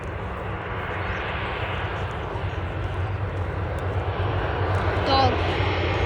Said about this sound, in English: Another plane coming up.